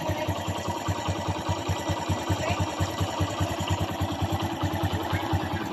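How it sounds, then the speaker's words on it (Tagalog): Kawasaki Bajaj CT 100 motorcycle engine idling with the clutch lever pulled in, a steady, even mid-pitched putter with rapid regular firing pulses, close and alone without any talk. "Yun, nakapiga na. Nawala ang ingay ng kanyang makina guys."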